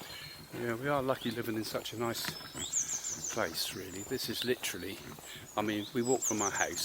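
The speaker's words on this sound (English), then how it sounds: "Hear the birds singing." People chat outdoors while birds chirp faintly in the background, short bright calls popping up now and then beneath the voices.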